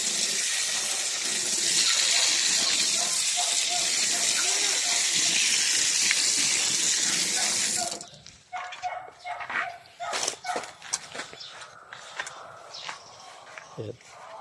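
Tap water gushes steadily as feet and hands are washed before entering an area with farm animals, a loud broadband rush that cuts off abruptly partway through, followed by clatter, footsteps and a dog barking nearby.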